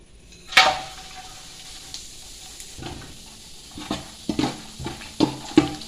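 Whole spices for bukhari rice dropped into a hot pan: a sharp sizzling burst at the start, then a low hiss broken by several clinking stirs and scrapes near the end.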